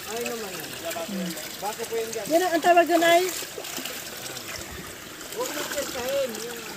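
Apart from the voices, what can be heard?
flowing spring water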